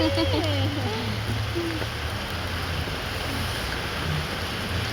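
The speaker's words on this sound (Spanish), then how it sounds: "empezó a llover mucho" Heavy rain pours down on a rainy afternoon, a dense, steady hiss that fills the whole stretch at even loudness, with faint tonal voice-like sounds near the start.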